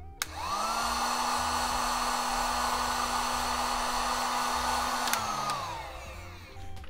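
A heat gun shrinks heat-shrink tubing over a soldered, crimped cable for a Christmas-light dipole antenna: a steady, loud blowing whine that starts abruptly, holds for about five seconds, then winds down as it is switched off.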